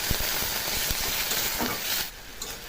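A pan of tomatoes and ginger-garlic paste for a Bengali-style pomfret curry sizzles loudly and close, with stirring clinks over the frying hiss, and then the sizzle softens abruptly as a little water goes in.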